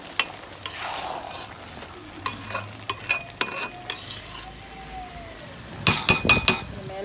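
A spoon stirs ghee rice in a pot with sharp metallic scrapes and clinks in quick bursts over a faint sizzle, close by.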